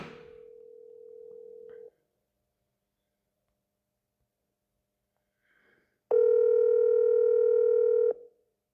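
A WhatsApp call goes out: a steady ringback tone sounds for about two seconds, then after a pause a second, louder ringing burst runs for another two seconds, with no talk over it.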